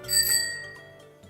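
A bicycle bell rings once with a bright metallic chime that fades quickly, heard alone and close with no talking.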